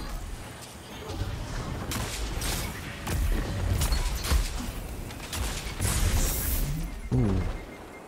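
Heavy crashing blasts and impacts burst out at intervals during a Destiny 2 match, loud and close amid scattered game noise and a voice talking.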